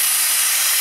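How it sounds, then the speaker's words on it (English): Loud, steady hiss of steam and sizzling oil from a frying pan cooking KFC-style fried chicken, constant and close with no pauses or talking. "That's not a lot of steam at all."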